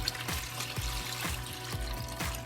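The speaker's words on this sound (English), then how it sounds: "We use the cold tap water to rinse the meat a few times." Cold tap water runs steadily over raw lamb meat as it is rinsed in a kitchen, a continuous close splashing stream broken by soft, regular thuds from the meat being handled.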